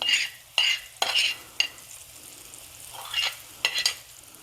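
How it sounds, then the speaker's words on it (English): Flour being stirred into a pan of browning onions for cube steak gravy, a spoon scraping in several quick bursts over a soft sizzle. "Get that stirred up"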